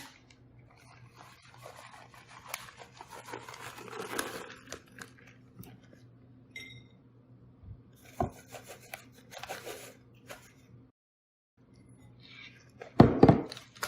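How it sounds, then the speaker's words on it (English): Gouda cheese being shredded on a grater in a kitchen, intermittent raspy scraping strokes in bursts with pauses, fairly close and moderately quiet. "We have Gouda, and shred it."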